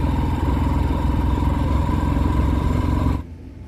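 A motorcycle engine labours uphill on a climb toward Lakuri Bhanjyang, a loud steady low drone with rattling tones that drops off abruptly near the end, no voices.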